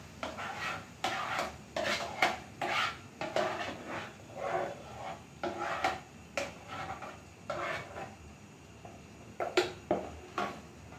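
Chicken pieces stirred with leftover marinade masala in a kadai while making chicken chaap, heard as repeated close scraping and clattering of a utensil against the pan, with light sizzling underneath.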